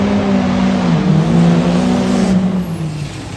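Cummins diesel truck engine revving loudly at a truck sprint event at Chestertown Elks Lodge, a steady low drone with rising and falling pitch that eases off near the end, close and alone.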